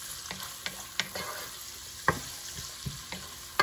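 String beans and potato saute in a pan with a steady close sizzle, broken by repeated sharp scrapes and clinks of stirring at uneven intervals.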